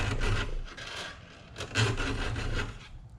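Chainsaw teeth are filed with an Oregon chainsaw sharpener: close, dry rasping strokes repeat in a steady back-and-forth rhythm, several passes per tooth, with no one speaking.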